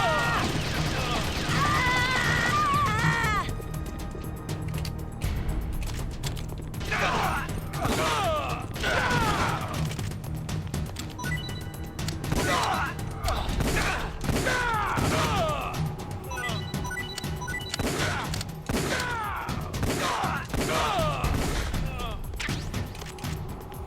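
Gunfire in the GameCube game Metal Gear Solid: The Twin Snakes, with repeated sharp shots and impacts in bursts alongside voiced game dialogue and crashing effects.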